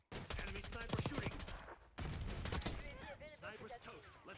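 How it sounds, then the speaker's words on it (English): Sniper gunfire and other shots crack in bursts during a Black Ops 6 match, loud and dense, with a player talking over the firing. "Enemy sniper shooting."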